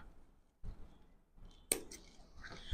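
Scissors snipping crochet thread close by, heard as a few faint, short clicks and crisp snips separated by quiet pauses.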